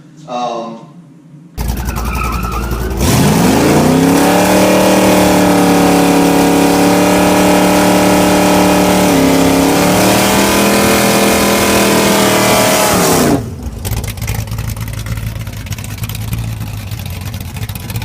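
A modified LT1 Firebird with new tires and a cold air intake, its engine roaring loud and close as it accelerates hard for about ten seconds with a rising, shifting pitch, then cutting back to a lower rumble.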